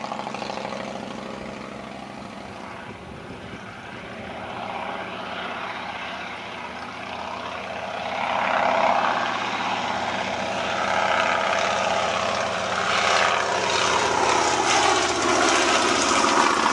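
A propeller-driven biplane primary trainer in silver RAF colours flies at a Shuttleworth air show, its engine droning steadily and swelling louder as it draws nearer in the second half.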